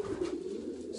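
A pigeon gives one short, soft, steady coo nearby.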